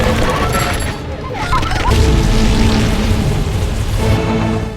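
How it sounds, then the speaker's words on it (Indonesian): A loud, rumbling blast of an unstable machine exploding in an animated film, with crashing debris and booming impacts, dense and chaotic, with a voice faintly mixed beneath the noise. "Dan gara-gara kekesalan Norman, mesin yang belum stabil itu malah meledak"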